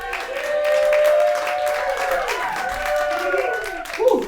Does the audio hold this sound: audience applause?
yes